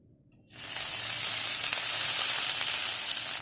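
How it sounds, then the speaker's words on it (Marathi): Ground stuffing paste hits a spoonful of hot oil in a pan, for millet and green-leaf paratha filling; after a brief silence, a loud, close, steady sizzle starts and holds without any talk. "स्टफिंग बनवण्यासाठी पॅनमध्ये मी 1 चमचा तेल टाकलेलं आहे आणि आपण आता हे वाटण वाटलेलं आहे ना, ते ह्या तेलावर परतून घेणार आहोत."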